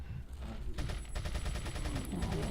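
Quiet, rapid bursts of gunfire crackle in Resident Evil 4, repeated shots blending with a low rumbling game background. They are faint but continuous for the whole stretch.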